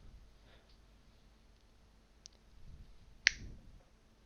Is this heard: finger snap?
yes